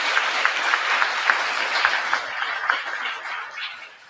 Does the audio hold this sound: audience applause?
yes